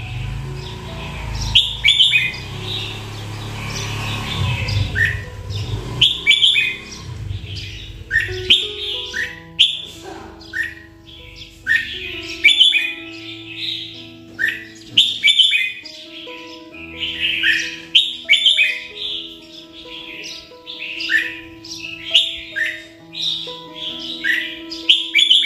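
Red-whiskered bulbul chirping, a caged wild-caught bird giving repeated bright, clear calls and short song phrases, close and prominent, with some low background noise at the start.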